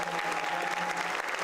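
Steady applause from an audience at a congressional town hall, a continuous dense clatter of clapping hands that holds at an even level throughout.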